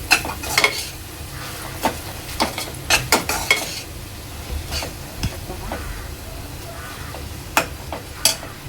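Masala for egg biryani frying in oil in a pan while a spoon stirs it, giving a steady low sizzle broken by sharp clinks and scrapes at irregular intervals, close and with no voices.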